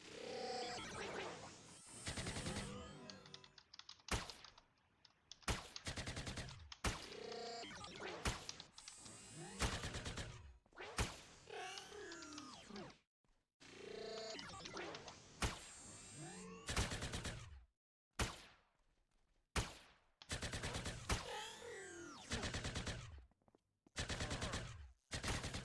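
Video game gunfire in Entropia Universe: dense bursts of automatic shots crackle in quick clusters, loud and close, separated by brief silent gaps over about twenty-five seconds.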